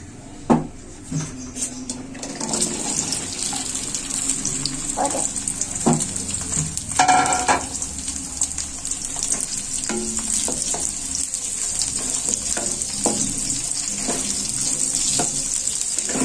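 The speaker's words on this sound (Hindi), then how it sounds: "भिंडी को डाल के हम इसको ज्यादा देर फ्राई नहीं करना, बस थोड़ी देर फ्राई करना है" Okra (bhindi) frying in hot oil in a pan, a loud steady sizzle with occasional stirring clinks and knocks, kitchen clatter near the start, no talking.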